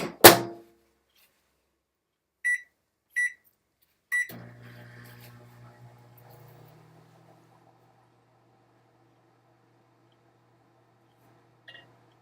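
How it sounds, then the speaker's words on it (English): A microwave oven heating Peeps marshmallow candies: a loud door thunk, a few short keypad beeps, then a low steady hum that fades out, with a faint beep near the end. "Going in the microwave."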